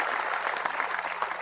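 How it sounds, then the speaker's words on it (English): Steady applause from an audience at a cultural event honouring President Irfaan Ali, a brief, even patter of many hands at moderate level with no talk. "let's give the President a round of applause"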